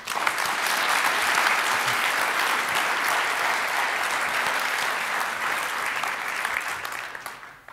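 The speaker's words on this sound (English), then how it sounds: "I want to ask for a big applause for Type 3" Conference attendees applaud a sponsor during an opening keynote, a broad, dense roll of clapping from a sizable crowd holding steady for several seconds before tapering off at the end.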